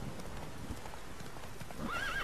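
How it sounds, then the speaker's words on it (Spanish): Horse hooves clip-clop in The Witcher 3, a brisk run of close, steady hoofbeats over ambient game sound that ends in a clear neigh. "A veces pasa que se para el caballo solo."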